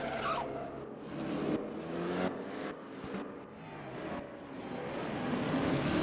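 Race car in a sim racing game losing its back end at the Norisring, a steady loud engine roar with tire squeal and skidding as the rear slides out, shifting pitch through the turn.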